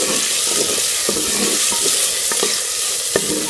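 Finely chopped tomato stirred into vegetables frying in a pan for a Pakistani mixed sabzi, giving a steady close sizzle with scraping clicks of the spoon throughout, and no voices.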